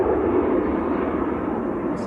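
A Saudia Boeing 787-9 Dreamliner in 2024 National Day livery taxis out at Manchester Airport, its engines giving a loud, steady, broadband rumble that holds without letup through the whole stretch.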